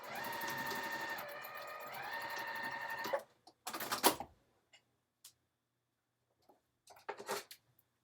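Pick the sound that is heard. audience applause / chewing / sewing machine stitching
sewing machine stitching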